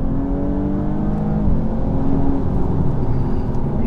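A BMW M240i xDrive accelerating, the engine and exhaust droning loud and close with a steady strained tone that steps up in pitch through a gear change, with no talking over it.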